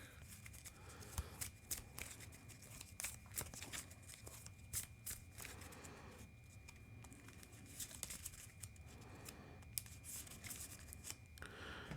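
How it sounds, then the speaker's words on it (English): Cards from a deck-building card game being shuffled back into the deck, a steady papery riffling and rubbing that runs on continuously at moderate level with no one talking. "We'll shuffle Adaptive Plumage back into my deck."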